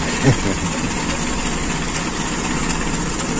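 A Toyota Kijang Super carburetor engine running cold in chilly weather, a steady loud close idle with a faint swell near the start and no clear rise in revs, with no talk over it.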